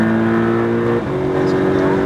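A car on a track at full throttle, the engine holding a loud, strong tone that dips briefly and then pulls on steadily, close and alone without talk.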